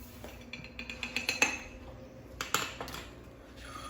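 Utensils clink against a pan as melted items are lifted off it, a run of light metallic taps and clinks in two short clusters, fairly close and quiet.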